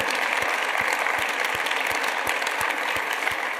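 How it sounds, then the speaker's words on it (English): A hall audience at a women achievers congress applauds with dense, sustained clapping, with faint regular low thumps running beneath it. "let's give a big round of applause for all those people"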